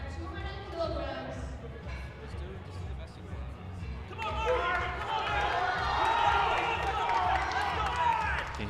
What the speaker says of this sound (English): Can you hear the Crowd crowd really really hyping hyping him him up.